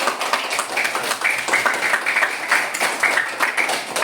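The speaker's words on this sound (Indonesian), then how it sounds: "tepuk tangan untuk Anjani" A classroom of elementary pupils claps for a classmate, a fairly loud, close burst of many hands with uneven, rhythmic peaks.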